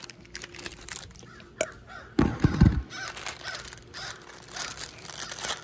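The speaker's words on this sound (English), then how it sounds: "Birds yelling at me?" Crows caw loudly nearby in a short burst of harsh calls, with rustling and crinkling noises before and after, and no talking.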